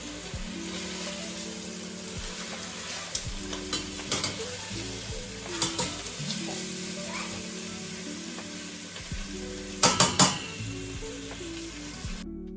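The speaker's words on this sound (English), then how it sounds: "then we're gonna saute our vegetables" Steady sizzling of vegetables sautéing in a pan for lemon chicken orzo soup, with occasional scraping stirs and clinks, while soft background music plays underneath.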